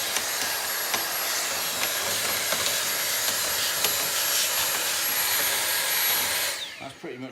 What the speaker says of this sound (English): I'm just going to run the hoover over the base of the case